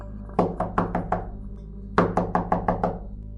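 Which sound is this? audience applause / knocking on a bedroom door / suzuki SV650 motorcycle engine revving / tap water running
knocking on a bedroom door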